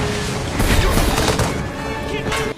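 Dense bursts of gunfire crack and boom in rapid succession, loud and chaotic, from a battle scene in the 2011 film Captain America: The First Avenger.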